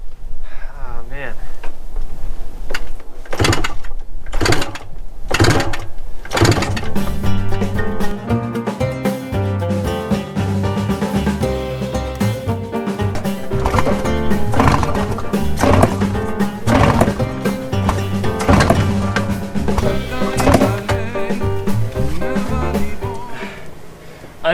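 A 1974 Honda MT250 Elsinore barn-find motorcycle with the choke on, kicked over again and again, giving sharp thumps and brief sputtering bursts that lead into a loud, continuous running rumble.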